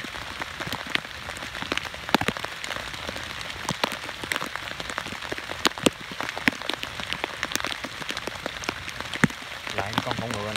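Heavy rain pours steadily during a storm, a dense continuous patter of drops hitting surfaces, fairly close, with a few sharper splashes and no voices.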